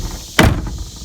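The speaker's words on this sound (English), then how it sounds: "the door's closed like it's a new one" A single solid thump of a heavy door swinging shut on an old barn-find car, close and brief, with a short low rumble fading after the impact.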